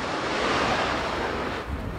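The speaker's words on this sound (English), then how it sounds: "All the noise that you guys hear in Puna, that is from degas." Steady broadband roar from degassing at a Kilauea lava fissure in Puna, heard continuously like loud surf or wind, dense and unbroken with a slight dip near the end.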